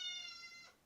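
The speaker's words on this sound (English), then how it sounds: "that's my cat crying" A house cat gives a single short, close meow with a clear harmonic tone that fades out quickly, against a quiet room.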